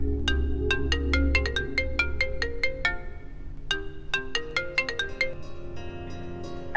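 A phone ringtone plays a bright, repeating melodic chime in two rising runs separated by a short pause, clear and close with no talking.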